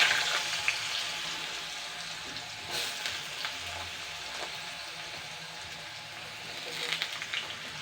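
Peeled, sliced, washed potatoes frying in oil, a steady close hiss and crackle of sizzling with a few soft clinks, continuous and fairly quiet.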